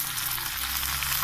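Onions frying in a pan for eggplant bharta as tomatoes are added, giving a steady, close, even sizzle that holds at the same level throughout with no pauses.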